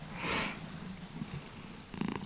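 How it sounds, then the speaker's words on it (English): A cat purrs softly and close by indoors, a steady low rumble with a faint sniff and a brief louder burst near the end. "I'm babysitting a cat."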